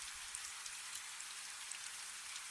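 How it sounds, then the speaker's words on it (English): Steady rain drumming on thick glass windows above a medieval stone cloister, a soft, even, constant hiss with faint scattered drops and no voices. "the rain begins to fall more steadily. You can hear it drumming on the thick glass windows above, a constant, soothing rhythm"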